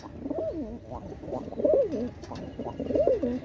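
Pakistani Teddy high-flying tournament pigeons cooing close up, repeated throaty rolling coos in steady phrases with no talk.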